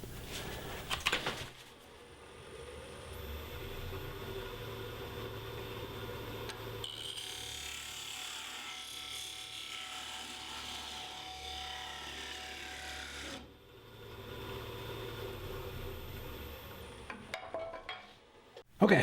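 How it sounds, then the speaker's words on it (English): A parting tool cuts into a small wooden ornament spinning on a lathe, giving a quiet, steady scraping hiss that runs for several seconds, with softer handling noises before and after. "I'm just going to come in with the parting tool and try not to drop it this time."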